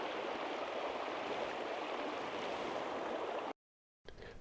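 Conneaut Creek running high with snowmelt in winter beside a covered bridge, a steady broadband rush of flowing water that cuts out briefly before resuming.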